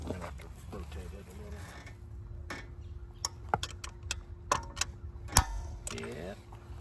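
Final torque tightening on a Honda S2000 differential comes through as a series of sharp metallic clicks and ratchet ticks, irregularly spaced and close, after a stretch of someone talking at the start.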